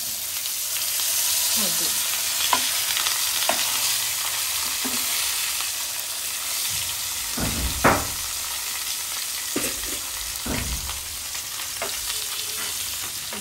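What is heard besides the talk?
fish frying in a nonstick pan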